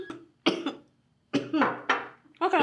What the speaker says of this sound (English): What kind of cough is that?